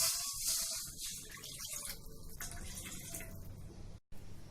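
Water poured from a cup into a pan of lightly fried semolina and grated carrot makes a steady rushing splash for about four seconds, close and alone, before briefly cutting off.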